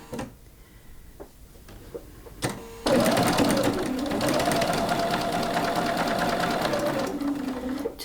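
After a few soft clicks and taps, a sewing machine starts chain stitching a pincushion, a loud close rapid mechanical whir with a rising then falling pitch that runs continuously for several seconds.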